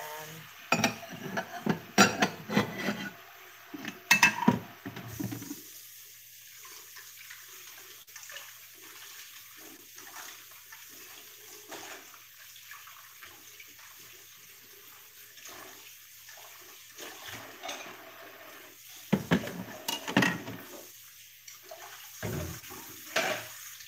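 Dishes are washed in a sink under running water, with bursts of clattering and splashing at the start and end and a quiet steady trickle of water in between.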